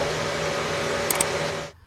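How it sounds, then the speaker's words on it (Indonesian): A vacuum cleaner runs as steady white noise to soothe a crying baby, a dense even whoosh with a low hum that holds for under two seconds, then cuts off abruptly. "Matt menemukan bahwa white noise Maddie dari suara vacuum cleaner"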